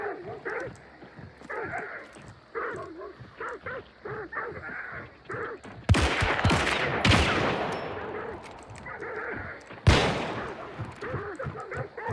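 Gunfire in a zombie shooter video game, with two loud bursts of shots cutting in over a busy stretch of rhythmic game sounds and music.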